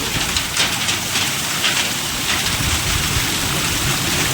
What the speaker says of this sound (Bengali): পাথর পড়ছে